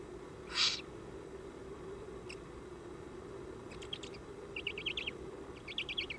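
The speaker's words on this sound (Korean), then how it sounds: "수리부엉이 새끼도 제법 자랐습니다." Eurasian eagle-owl chicks call at night in the wild: one sharp cry, then a few faint short raspy bursts repeating toward the end over a low steady background hum.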